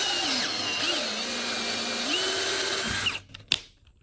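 A drill driving a 1/4-20 combination drill, tap and countersink bit into the workpiece, whining steadily and close, with its pitch dipping under load before it stops abruptly, followed by a couple of faint clicks.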